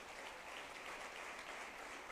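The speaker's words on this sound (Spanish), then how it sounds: "denle un aplauso al Señor por sus hijos" A church congregation claps together in steady, dense applause for about two seconds, a continuous wash of hands with no voices above it.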